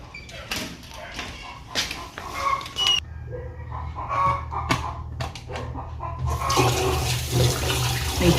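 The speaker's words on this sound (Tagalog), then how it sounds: "Kuha tayong tubig sa gripo." Tap water runs from a kitchen faucet to fill a pot while pancakes are being made, a steady splashing rush that grows louder and fuller toward the end, with clattering handling sounds before it.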